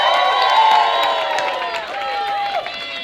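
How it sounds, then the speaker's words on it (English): An audience at a roast show applauds and cheers for newcomers, with dense, continuous clapping and scattered whoops and shouts from a lively crowd, steady and loud throughout, tapering only slightly near the end. "Give them all a round of applause"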